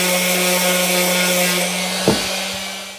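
A power sander with a steady, loud mechanical whine and hum grinds saw marks off the ends of a wooden pleco breeding cave, with one brief knock near the end.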